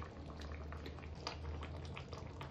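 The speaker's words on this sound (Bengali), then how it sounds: "এবার এটাকে 2 মিনিটের মতো একটু ফুটাতে দেবো, যাতে যে মশলা টসলা ধনে পাতাগুলো আছে ওর সাথে ভালো করে মিক্স হয়ে যায়।" A pot of curry with spices and coriander leaves simmering on a gas stove, giving a soft, steady bubbling close by with faint popping, quiet and without talk.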